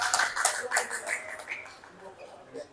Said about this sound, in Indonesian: Boleh tepuk tangan buat Mbak Dea.